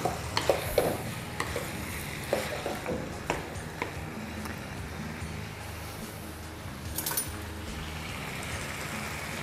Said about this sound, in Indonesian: Ini kita aduk-aduk aja seperti ini.